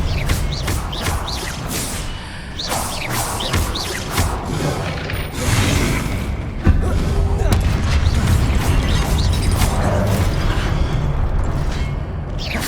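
Spell-casting effects for Incendio, Expelliarmus and Depulso in Hogwarts Legacy, a rapid string of crackling bursts and impacts under a steady rumble of game audio, with a voice calling out spell names.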